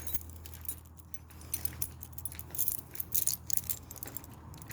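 A bunch of keys jangles and clinks in bursts while a warehouse door is being unlocked, close and fairly quiet over a low steady hum.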